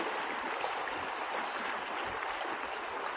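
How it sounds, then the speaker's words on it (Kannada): The Shali Ganga river in Kashmir rushes past as a steady, even wash of flowing water, moderately loud and unbroken, with no other sounds standing out. "ನದಿ ಹರಿತಾ ಇರೋದು ಹೇಗಿದೆ?"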